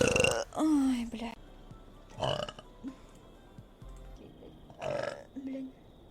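Several loud, deep burps from a young woman in a compilation of huge burps, coming in separate bursts with short pauses between them and some background voices.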